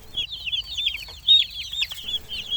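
Young meat-bird chicks peep and cluck in a dense, continuous chorus of high chirps, close and fairly loud, with no talking.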